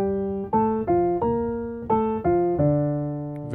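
A simple gospel-jazz piano melody, about nine single notes in a stepwise, mostly descending line starting on C, played clearly and evenly with each note ringing briefly.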